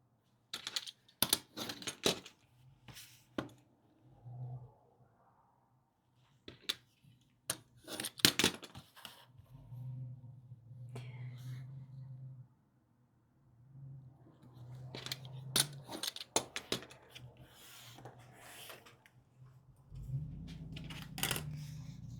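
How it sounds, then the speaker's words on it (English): A scrapbooking mitering tool cutting chipboard corners while making a tag book, giving sharp, close clicks and snaps in irregular clusters separated by quiet pauses, with soft handling noise in between. "Just a little mitering tool for scrapbooking and mini albums."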